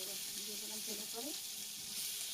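Prawns coated in turmeric powder fry in hot oil in a pan, giving a steady, close sizzle with soft crackling under a faint high hiss.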